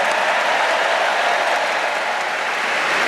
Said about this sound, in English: Round of applause for Rory for Masters,